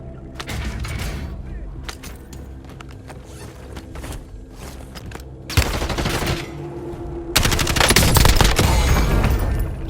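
Gunfire in Call of Duty: Warzone comes in rapid automatic bursts that grow louder and denser toward the end, mixed with game sounds and a voice speaking.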